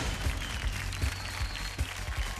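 A studio audience on Kaun Banega Crorepati claps in a dense, fairly steady round of applause to welcome the new contestants.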